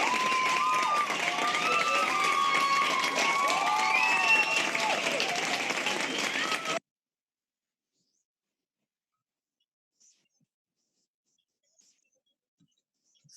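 An audience applauds the guests Sibila and Dafne of the collective LASTESIS, a full, sustained round of clapping with some vocal cheering for about seven seconds. It then cuts off abruptly into near silence.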